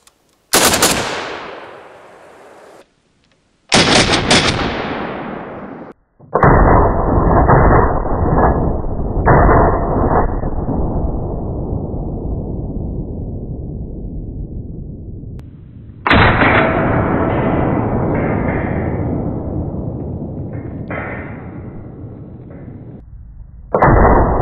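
Three loud, sharp rifle shots from a PSL fitted with a JMac 4-port muzzle brake ring out outdoors, each followed by a long decaying echo, with gaps between the reports.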